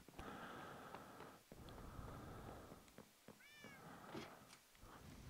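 A cat meowing in the video game Minecraft, a few short, faint mews amid quiet background sound, heard alone without talk.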